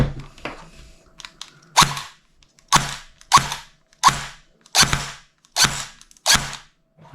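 An upgraded P90 airsoft gun fitted with cheap parts fires seven sharp, loud shots at a steady pace about every seven-tenths of a second, close up, with faint mechanical clicks before the first shot.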